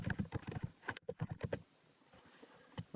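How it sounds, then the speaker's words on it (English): Rapid clatter of typing on a computer keyboard, a close, steady run of keystrokes for about a second and a half, then a quieter pause with a few scattered taps. "I'm just going to go ahead and type in renter's insurance"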